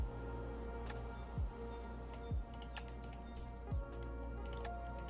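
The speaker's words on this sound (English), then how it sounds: "so I will click Sucker Punch 8 times" Sharp clicks of a computer mouse and keyboard repeat in an irregular series, quiet and close over a low steady hum, with no talking.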